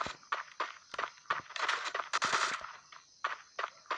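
Rapid, irregular bursts of close gunfire from a gun going off accidentally in the shooter game Garena Breakout, with sharp cracks and short pauses between clusters of shots.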